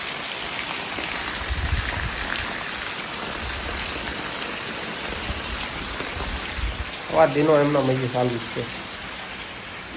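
Heavy rain pours down steadily as a continuous broadband hiss throughout, with a voice talking briefly over it near the end.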